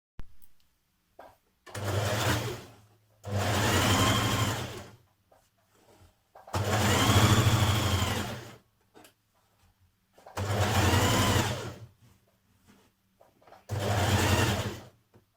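A sewing machine stitches the side seam of a skirt in five steady bursts of loud, close motor hum and needle clatter, separated by short quiet pauses.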